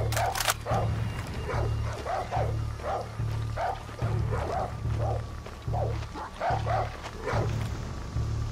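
Dog barking repeatedly in a Far Cry 6 campaign scene, a steady run of sharp barks over a continuous low hum and background game ambience, fairly close and loud.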